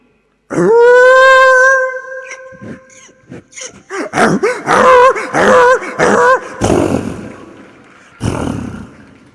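A stage performer's voice imitates a donkey braying, long drawn tonal honks followed by a string of loud, choppy hee-haw bursts and a final short cry, close and alone.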